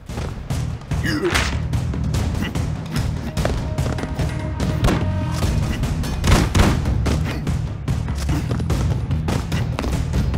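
Dense bursts of gunfire and booming explosions in the video game Broforce crash over one another nonstop, loud and close, with music running underneath.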